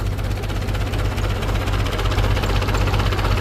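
A Ford 5000 tractor engine idles steadily up close, a constant low throbbing rumble with a faint rhythmic knock and no other sounds.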